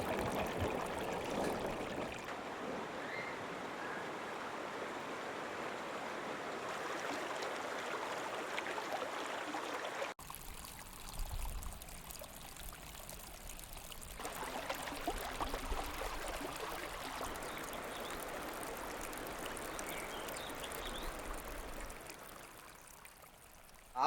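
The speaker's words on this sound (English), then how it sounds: "Water running on a ditch like this, it's even better than music" Water running in an irrigation ditch on farmland, a continuous gurgling and trickling flow heard at close range, steady throughout with small shifts in texture and no voices.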